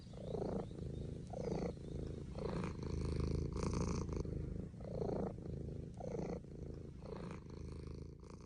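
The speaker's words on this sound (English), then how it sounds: "She fell asleep, purring." A cat purrs close up, a steady rumbling purr with rhythmic breathing cycles repeating about once a second, continuous and fairly loud with no talking.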